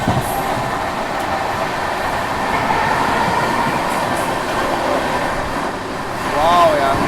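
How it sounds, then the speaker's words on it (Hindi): Karnataka Express passenger train running at about 120 km/h, a steady dense rumble of wheels and carriage noise heard from on board, with a brief faint squeal near the end. "लगातार 120 की रफ्तार में कर्नाटका एक्सप्रेस"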